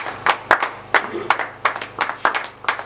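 A church congregation claps in praise of the Lord, a brisk run of sharp, irregular handclaps, fairly loud and close, with a faint voice beneath.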